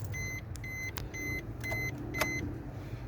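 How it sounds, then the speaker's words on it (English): Front electric windows of a Suzuki Swift 1.0 SZ-T Boosterjet running in short repeated bursts, a close whining motor hum with faint clicks between strokes, no talking. "the controls for the front electric windows"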